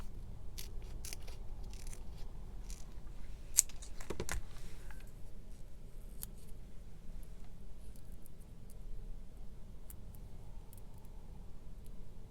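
Quiet, close snips of scissors trimming paper for a collage come as a series of short crisp cuts and light paper rustles, with a brief louder clatter partway through.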